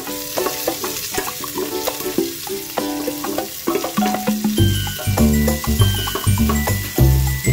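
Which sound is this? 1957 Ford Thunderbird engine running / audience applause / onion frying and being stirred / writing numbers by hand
onion frying and being stirred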